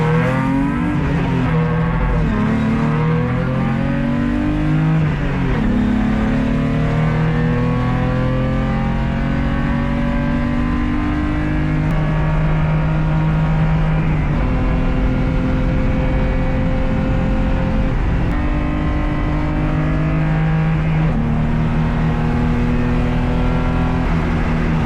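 A race car engine roars continuously up close on a track at Roebling Road Raceway, revving high and dropping pitch through repeated gear shifts as it drives hard.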